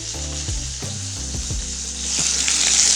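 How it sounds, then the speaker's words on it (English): Onions sizzle and fry steadily in a pan alongside roasting apples, a loud, continuous crackle with occasional stirring clunks. The sizzle swells louder toward the end, and no one speaks. "And then we'll put onions down in here."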